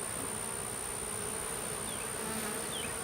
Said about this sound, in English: seeing a lot of new fresh fuzzy bees